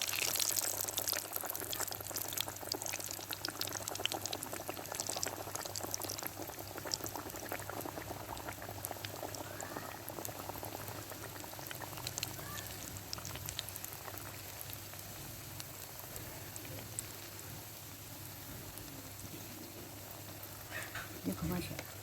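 A second batch of samosas fries in hot oil, with a dense, continuous bubbling and crackling that stays fairly even from start to finish.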